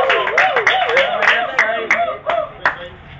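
Scattered hand claps from an audience at a Filipino freestyle rap battle sound under a voice, a handful of sharp, uneven claps.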